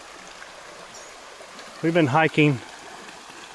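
Creek water flows steadily on a hiking trail near Panther Creek, a soft continuous wash running under a brief stretch of someone talking.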